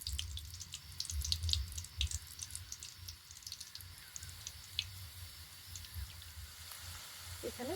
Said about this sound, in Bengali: এবারে টিফিনগুলো একে একে তেলের মধ্যে ছেড়ে দেব।